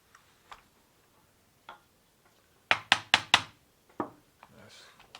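A hammer or punch knocks the pin out of a 1917 Enfield rifle during teardown: a few light taps, then a quick burst of four sharp metallic knocks and a couple more taps, close and clear.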